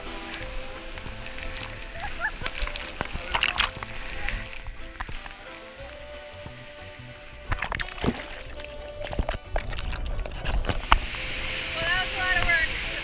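A waterfall at Emerald Lake in Dominica rushes steadily in the background, a broad, continuous wash of falling water with scattered bumps and handling noise, while people talk nearby.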